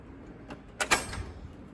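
A metal tool box drawer slides open, a brief rolling scrape with a couple of close metallic clunks, then quiet.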